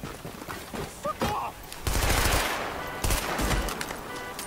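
Gunfire from the video game Tom Clancy's The Division: bursts of rapid automatic shots crackle loudly, first in short volleys, then in a sustained fusillade, with voices briefly mixed in.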